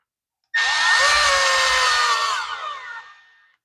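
A cordless power driver with an Allen bit tightens screws into a Husqvarna blower's plastic case, one continuous close whine that starts abruptly, holds steady for about two seconds, then winds down and fades.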